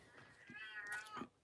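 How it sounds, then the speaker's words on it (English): A house cat meows loudly in a drawn-out, wavering call lasting about a second, with a shorter cry at the end, heard close and indoors. "my cat is being loud."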